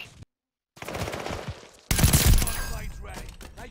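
Vargo rifle gunfire rings out in a shooter game, with rapid shots, a brief dead-silent gap, then a loud, dense burst of close automatic fire that tapers into scattered cracks.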